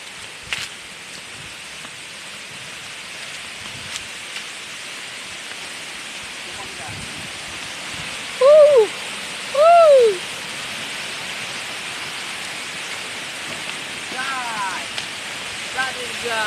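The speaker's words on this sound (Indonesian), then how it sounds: "Inilah air terjun pertama." The Ganda Arum waterfall roars as a steady broad rush of falling water, loud and constant throughout, with a few brief whistles rising above it.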